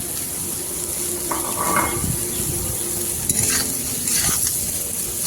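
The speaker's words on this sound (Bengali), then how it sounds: "এবারে ঝিঙেগুলো দিয়ে দিচ্ছি।" Ridge gourd pieces tipped into a pan of well-fried onions with turmeric, giving a steady close sizzle with scraping stirs and a few clinks of utensil against pan.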